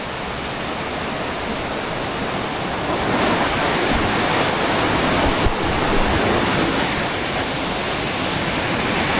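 Steady broadband rush of a river flowing over eroded rocks in its bed near Aguas Calientes, Peru, on the hydroelectric route toward Machu Picchu; loud, continuous and close, with no voices.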